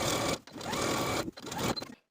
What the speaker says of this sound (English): Now I'm going to go to my machine and sew close to these serged stitches all the way around the garment.